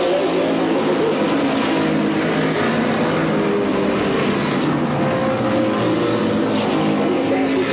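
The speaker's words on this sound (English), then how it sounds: "As the cars move in the race around the position." Race cars circling Sandusky Speedway in 1985, a steady dense roar of engines that stays loud throughout with no break, with a faint announcer voice mixed in.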